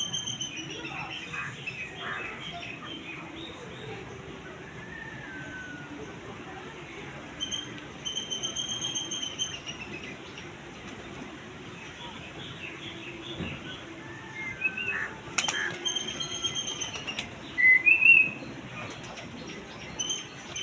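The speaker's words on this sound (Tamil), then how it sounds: "புறாக்கள் எல்லாமே வெளியே ஓரளவு எல்லாமே வெளியே வந்துட்டு" Pigeons stirring in a loft after getting wet, with soft scattered chirps and cooing under a hiss of background noise, plus a few short bursts of fluttering and rustling near the end.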